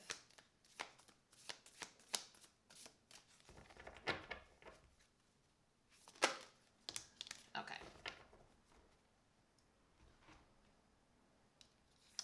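Tarot cards being shuffled by hand during a reading, heard as a series of crisp riffling and slapping bursts, close and fairly loud, easing off toward the end.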